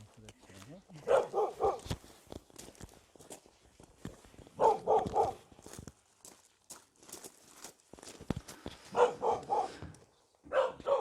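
Several dogs at a rural country house bark in repeated short bursts, with clusters of yaps recurring every few seconds at moderate distance while people talk.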